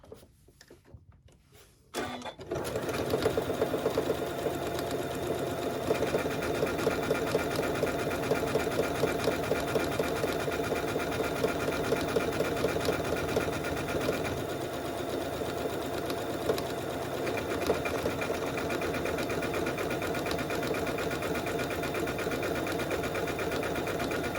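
A sewing machine with a button foot and shank starts after a short quiet pause and then runs in a fast, steady mechanical chatter that stays loud and even to the end.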